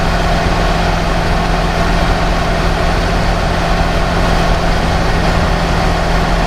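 A 1982 Winnebago Brave motorhome with an aluminum body cruises at 50 mph, giving a loud, steady engine and road drone inside the cabin with no pauses.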